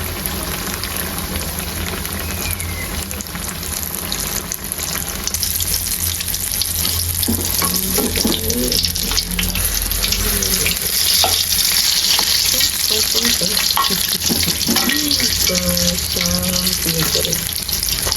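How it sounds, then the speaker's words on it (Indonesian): Battered fermented cassava (tape) frying in hot oil, a steady loud sizzle and bubbling that keeps going throughout, with some stirring and utensil clatter close by; no talking. "Goreng sampai matang guys."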